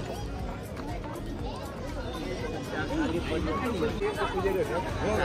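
A dense crowd murmurs and chatters outside a temple, a steady close babble of many voices that swells slightly louder toward the end.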